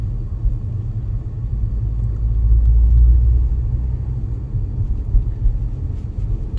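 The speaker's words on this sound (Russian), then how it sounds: "Трафик такой немалый, но все преодолимо." Heavy road traffic rumbles along a long Toronto street, a steady low drone of passing cars that swells briefly near the middle, with no voices.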